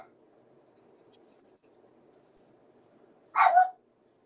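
A dog indoors gives one loud, close bark near the end, after a quiet stretch of faint scratching and crafting noise.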